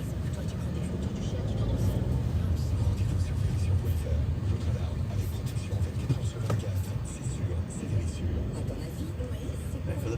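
Steady traffic around the Arc de Triomphe roundabout in Paris, with buses and cars rumbling and engines droning continuously close by, a loud unbroken wash of road noise.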